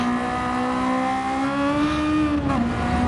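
A Genesis race car engine in the video game Gran Turismo 7 whines at high revs in a steady, buzzing drone, the pitch wavering and dipping briefly near the end.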